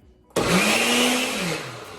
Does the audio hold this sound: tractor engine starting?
no